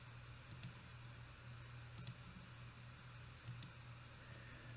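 A computer mouse clicks in three small double-click pairs, sharp and faint, spaced about a second and a half apart over a low steady hum.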